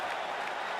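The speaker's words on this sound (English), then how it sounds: "Stand and cheer," An arena crowd cheers and applauds at the end of a five-round UFC fight, a dense, steady wash of clapping and roaring heard at a distance, with no single voice standing out.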